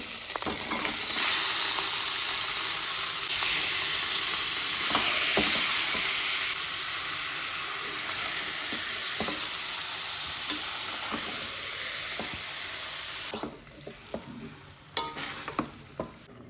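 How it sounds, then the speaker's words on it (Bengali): Lemon-marinated meat fries in a spiced masala, a strong, even sizzle that carries on for most of the time before dying down to a few sharp spoon knocks and stirs at the close. "মশলাটা এই দেখুন সুন্দর করে কষানো হয়ে গেছে লেবু মাখানো মাংসটা দিয়ে দেবো"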